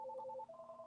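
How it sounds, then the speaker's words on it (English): A telephone rings indoors: a short, fairly faint electronic ringtone of two alternating tones, heard alone without talk. "the phone keeps ringing"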